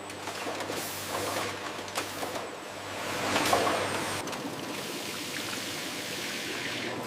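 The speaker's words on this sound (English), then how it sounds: "Pepsi flows at exactly the right temperature to preserve carbonation." Pepsi pours from filling valves into bottles on a factory bottling line, giving a steady rushing, trickling stream of liquid over mechanical hum that swells briefly midway.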